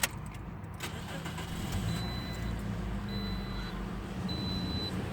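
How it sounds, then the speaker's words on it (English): A 2009 Toyota Corolla XLE engine starts and settles into a steady close idle rumble, while a thin repeating chime sounds three times over it. "turning on my car."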